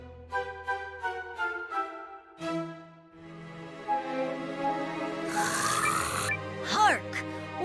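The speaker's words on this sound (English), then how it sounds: "What is all that raucous snoring?" Raucous snoring from a sleeping wolf in the video game Eiyuden Chronicle: Hundred Heroes, rising over a bed of orchestral game music with repeated rhythmic snorts and breaths.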